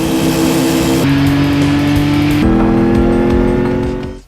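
Race car engines from the video game Gran Turismo 5 drone loudly and steadily, their pitch stepping up with each gear change, with no talking over them.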